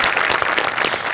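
Dense, steady audience applause at a Marathi stage comedy show, a brief unbroken burst of many hands clapping close by with no talk over it.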